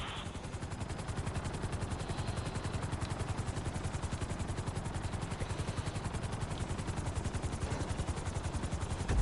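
Helicopter in the video game GTA 5 setting down on a landing pad, a steady fast rotor chop throbbing evenly throughout with a constant engine drone, no voices.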